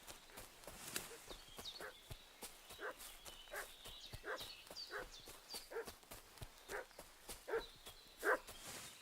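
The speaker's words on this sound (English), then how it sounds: "What's that dog making such a fuss about?" Dog barking in the video game Kingdom Come: Deliverance II: repeated barks spaced at intervals over the rhythmic clip-clop of horse hooves, moderately faint, with a sharper cry near the end.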